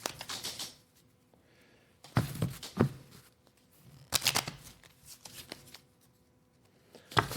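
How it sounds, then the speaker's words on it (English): A deck of game cards is riffle-shuffled gently by hand, giving three or four separate bursts of close crisp fluttering with quiet pauses between them and no talking. "I'm going to actually shuffle these cards instead of doing it the other way"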